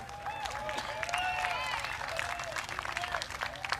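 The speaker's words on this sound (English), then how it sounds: "Big round of applause for them." A crowd claps for the organizers at an outdoor bay fair in San Diego, sustained applause with whoops and whistles rising through it, fairly distant.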